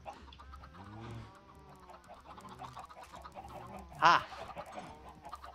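Chickens cluck and warble in Minecraft with the FTB modpack, a busy, moderately close run of layered bird calls, and one sharp short shout breaks in near the end.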